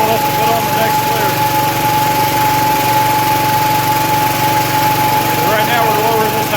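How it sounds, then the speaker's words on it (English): A hydraulic cylinder lowers on a grain-bin-building jack machine, heard as a loud, continuous engine-driven drone with a steady whine and no pauses. "So right now we're lowering this hydraulic cylinder."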